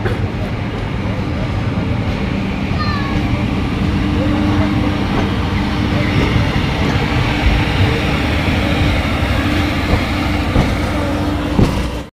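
A Garib Rath train rolls past on the rails, a loud, continuous rumble with rhythmic wheel clatter; a voice talks faintly in the background.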